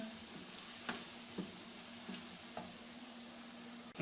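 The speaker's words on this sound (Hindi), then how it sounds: "टमाटर फ्राई कर लेंगे ताकि हमारा मसाला यकजा हो जाए।" Tomatoes fry in a pan for a Punjabi-style mixed dal masala, a steady close sizzle with the spoon stirring and scraping in soft, irregular knocks every half second or so, no talking.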